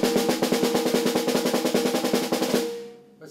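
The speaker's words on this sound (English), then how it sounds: "An open roll sounds like this." Marching snare drum played as an open roll: a fast, even stream of bright, crisp double strokes for about two and a half seconds, then a short ringing decay into near silence.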